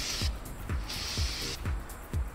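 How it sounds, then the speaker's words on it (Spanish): Filter oil spray from an aerosol can applied to a GasGas TXT GP 2023 motorcycle air filter: repeated short hissing bursts with soft thumps between them, close and steady. "voy a echarle un poquillo de spray de filtros, cualquier marca sirve"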